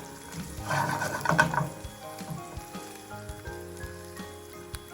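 Sunny-side-up eggs frying in a stone pan, a soft sizzle that swells briefly as a spatula slides under and turns an egg, then settles to a quieter crackle with light taps.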